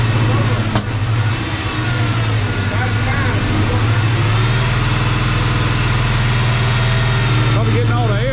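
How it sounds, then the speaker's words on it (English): A 1992 Ford F150 engine runs steadily and close, a low rumbling drone with slight swells in revs, and voices talk over it. "Rev it up."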